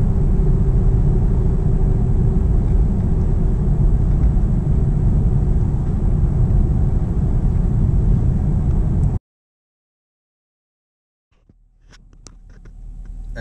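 2016 Chevrolet Camaro SS cruising at 50 mph on cruise control in sport mode, with the fuse pulled: a steady, loud in-cabin road and engine drone for about nine seconds, then silence, then the rumble faintly returns.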